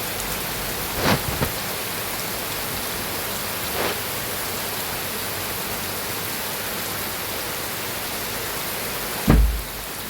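Steady hiss of rain falling, constant and even, with a few brief louder thumps now and then.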